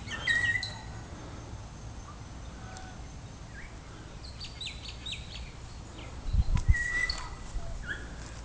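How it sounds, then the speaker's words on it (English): Kaka parrots in New Zealand bush on a cold day, giving scattered short, faint whistles and chirps at a distance against quiet background rustle, with a soft thump near the end. "those are our parrots"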